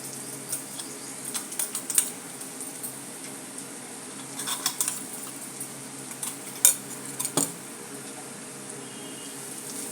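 Grated carrot being stirred into fried onions in a pan, heard as scattered light scraping and clinking of a spoon against metal, faint and close, with no one talking.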